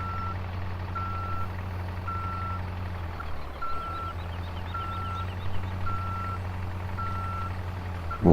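A Scania truck in Farming Simulator 17 reverses, its backup alarm sounding eight evenly spaced beeps over a steady low engine drone.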